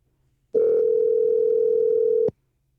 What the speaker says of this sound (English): Dialing Jason Loeliger up in Walnut Creek, California.